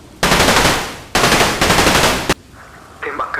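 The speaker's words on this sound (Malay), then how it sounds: "Tembakan dilepaskan." Loud machine-gun bursts ring out as a sound effect in an audio drama, three sustained rattling volleys in quick succession, followed by quieter clatter and noise at the end.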